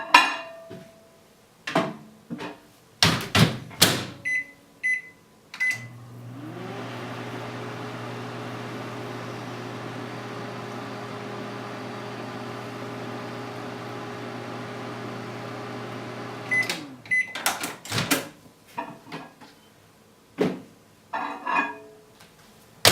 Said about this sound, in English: I'll probably heat it up just a little bit more in the microwave